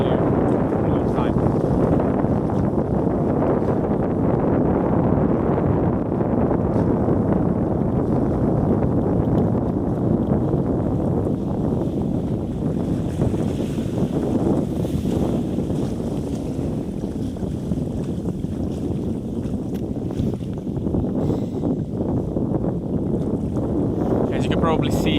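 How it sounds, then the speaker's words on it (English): Strong wind roars across a lake in Lapland, Finland, where the ice has not yet settled, with waves lapping. It is a dense, steady rush of wind noise buffeting the microphone throughout, loud and close. "It's also a bit windy today, so we have big waves on the lake"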